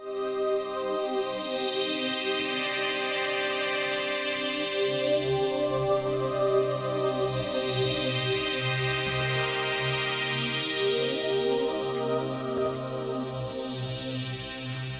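A string-machine synthesizer holds lush sustained chords, swept by a slow phaser that makes the tone swirl up and down, steady and loud throughout.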